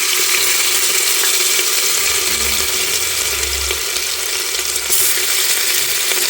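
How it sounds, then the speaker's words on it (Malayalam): Crushed ginger and garlic fry in hot coconut oil for a tapioca biryani, giving a continuous loud, bright crackling sizzle, close up with faint low stirring thumps underneath and no voices. "എണ്ണ ചൂടായിട്ടുണ്ട് ഇനി ഇതിലേക്ക് ഇഞ്ചി വെളുത്തുള്ളിയും ചതച്ചത് ഇട്ട് കൊടുക്കാം"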